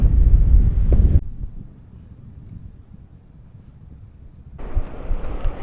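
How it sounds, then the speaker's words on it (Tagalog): Strong wind gusts through trees in Dingalan, roaring and buffeting the microphone loudly at the start and again near the end, with a quieter, rumbling lull between. "dinig na dinig yung lakas ng hangin dito sa mga puno"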